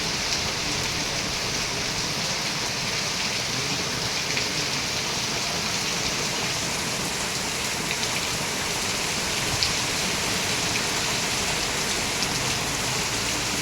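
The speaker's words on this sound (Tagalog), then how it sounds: "Yan, lalong lumakas ang ulan." Torrential typhoon rain in Vigan, Ilocos Sur, hisses in a loud, constant wash with scattered drop patter and no voices.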